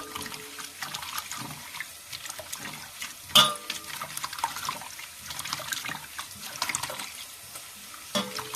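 Fresh spinach rinsed under a running kitchen tap for a Telugu chana dal fry cooked in a clay pot, giving a steady close splashing water sound with small clatters and one sharp knock partway through.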